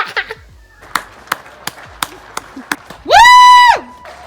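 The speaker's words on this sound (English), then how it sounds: "Tonight everyone is going out into the street to show their appreciation through clapping" Someone standing in a street claps for NHS workers during the March 2020 lockdown, about eight sharp, evenly spaced claps close by, followed by a loud, rising whoop.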